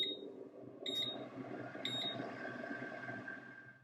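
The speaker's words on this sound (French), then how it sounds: "nous avons un signal sonore avec 3 bips pour lancer le programme" A Deluxe air fryer sounds three short, clear electronic beeps about a second apart as its cooking program starts, heard alone against quiet background hum.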